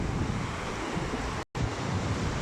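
Strong ocean waves breaking on an island shore, a dense continuous roar of surf mixed with wind noise, broken by a brief dropout midway, with no voices.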